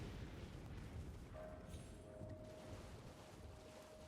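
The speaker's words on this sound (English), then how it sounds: "aside from the impending thunderstorm by the sound of it" Distant thunderstorm rumbling across a quiet waterside area in Elden Ring, a low continuous roll that stays faint and steady, with a thin tonal hum entering partway through.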